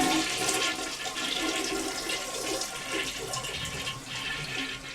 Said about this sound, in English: So don't forget to flush.